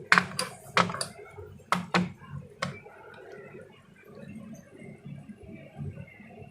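A knife chops a lemon on a cutting board while mango jam is being made: several sharp, crisp cuts in quick succession, then quieter scraping and soft handling, close by.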